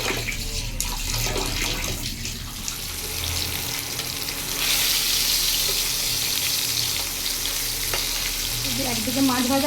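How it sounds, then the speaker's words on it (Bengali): Fish fries in a pan on an induction cooktop, a steady close sizzle with stirring clatter, mixed with bursts of running tap water in a home kitchen and no talk. "একদিকে মাছ ভাজা হচ্ছে আর একদিকে মাছ কাটা।"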